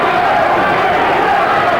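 Boxing crowd at the Miami Beach Convention Hall giving a standing ovation, a dense, loud, steady roar of cheering and applause filling the whole hall without a break.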